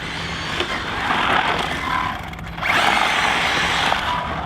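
A ZD Racing EX-07 RC drift car running fast on a 4S battery, its high electric motor whine rising and falling in close, loud surges with scrabbling tyre noise.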